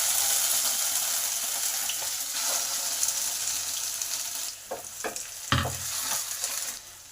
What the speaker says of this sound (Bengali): শাকটাকে ভালো করে এই তেলের সঙ্গে নেড়ে নেব।